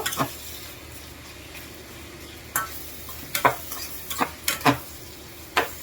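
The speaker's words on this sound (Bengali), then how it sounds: "পেঁয়াজ রসুন কাঁচামরিচ গুলো একটু ভেজে নিব।" Onion, garlic and green chilies frying in a pan for bottle gourd leaf bhaji, a low steady sizzle broken by several sharp close clacks of a spatula against the pan; no voices.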